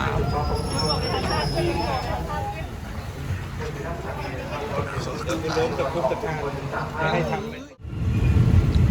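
A train runs through railway junction stations in Thailand on the route from Bangkok toward Korat, making a steady, loud rumble with rattling wheels while people talk over it.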